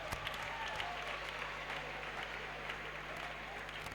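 A church congregation applauds the Lord, a steady wash of clapping from many hands throughout, with a faint hum beneath and no break in the noise.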